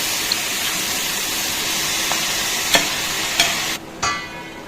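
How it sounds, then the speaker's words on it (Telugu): Spinach for palak curry sizzles loudly in a pan while a spoon stirs it, with a few sharp clinks against the pan and a sudden drop in the hiss near the end, with no talking. "ఇప్పుడు పాలకూర యాడ్ చేశాక ఒకసారి కలిపి మూత పెట్టుకోవాలి"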